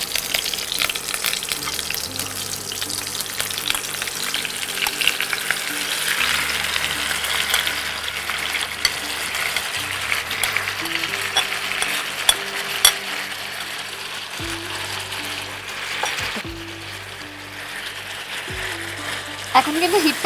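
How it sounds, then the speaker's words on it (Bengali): Chicken for bati chorchori goes into a pan over full heat, with a continuous broad frying hiss, watery splashy crackle and occasional utensil knocks across a long stretch, under a low steady hum. "এবারে মাংসটা দিয়ে দিচ্ছি।"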